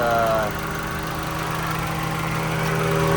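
A 1992 Honda Civic hatchback engine idles steadily with a low, even hum, close and continuous, with a faint fan whir behind it.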